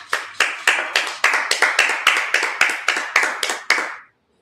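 A church congregation claps in unison at a Sabbath service, about a dozen sharp, evenly spaced claps in a steady rhythm that stop abruptly, close and loud with no talk.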